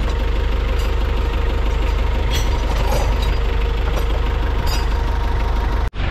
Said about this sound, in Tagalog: Yan, 3 oras na to nakaandar yung ano natin, H100.